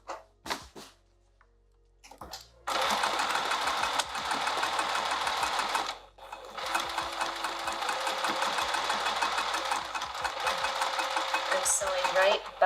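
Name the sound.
sewing machine stitching a striped canvas tote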